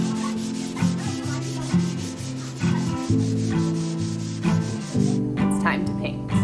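Rhythmic back-and-forth sanding scrapes across a dried mud-coated archway, loud and close in steady repeated strokes, with a voice talking partway through.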